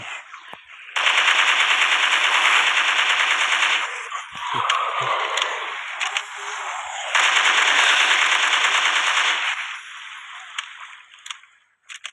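Automatic gunfire in a zombie monster video game, two long loud bursts of rapid machine-gun shots separated by a short gap of softer shots and squishy hits.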